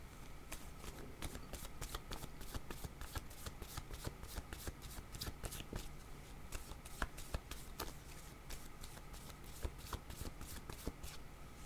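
A deck of cards being shuffled for a tarot-style reading, producing steady rapid riffling and flicking close by, with sharp card snaps scattered through and no voices.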